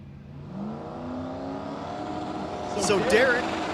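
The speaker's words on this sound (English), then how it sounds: "So Derek, Vice Grip Garage, driving the El Toro." El Toro drag car driven by Derek of Vice Grip Garage at a drag race, its engine note climbing steadily as it accelerates and grows louder, with a voice talking over the final stretch.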